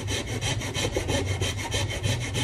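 A hand saw cutting wood with quick, even back-and-forth strokes, about five per second, close and loud with no talking.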